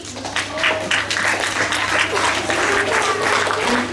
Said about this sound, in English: a big round of applause for our children from class 3B